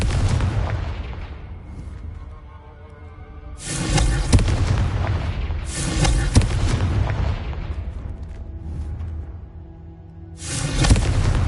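Three heavy booming blasts from the Confringo blasting spell in the Hogwarts Legacy video game, each explosion loud and close with a long rumbling decay before the next hit.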